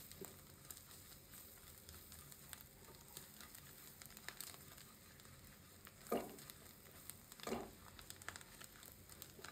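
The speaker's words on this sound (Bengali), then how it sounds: "রসুন কুচিটা একটু ভেজে নেবেন।" Chopped garlic fries in a pan with a quiet, steady sizzle and crackle, broken by a couple of louder stirring scrapes and soft clinks partway through.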